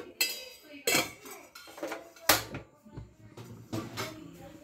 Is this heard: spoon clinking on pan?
yes